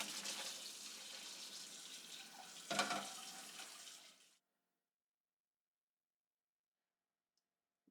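Cooked noodles and their water pour out and drain for about four seconds, a close, continuous rushing splash with one brief sharper surge, then it stops abruptly into silence.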